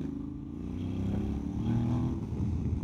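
A remapped Honda X-ADV 750 scooter accelerating hard from a standstill toward 120 on a rough street, its engine drone rising and swelling under wind rumble.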